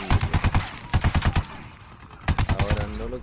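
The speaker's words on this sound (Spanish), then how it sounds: "Sale disparo sincronizado conmigo." Ghost Recon Wildlands shooting: quick volleys of sharp suppressed gunshots in tight rhythmic bursts, three clusters close and loud, followed by a short game voice line.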